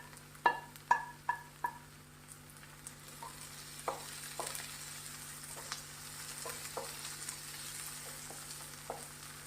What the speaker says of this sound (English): After adding tomato, you need to saute this for at least 2 minutes.